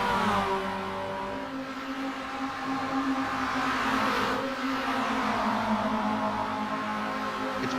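A beat-up Mazda MX-5 racing in the video game Rumble Racing, its engine a continuous buzzing, revving drone, steady and fairly loud throughout with no talk.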